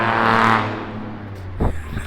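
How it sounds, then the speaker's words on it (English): Loud Dodge Charger passing by, a strong roaring engine swelling then fading away over about a second, followed by a faint clatter. "That was a loud ass car."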